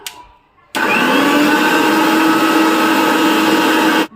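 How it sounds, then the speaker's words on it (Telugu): A mixie grinder jar whirs loudly and steadily for about three seconds, blending roasted spices into a fine paste; it starts abruptly after a brief quiet moment and cuts off at the end. "ఫైన్ పేస్ట్ కింద మిక్సీ పట్టుకోవాలండి"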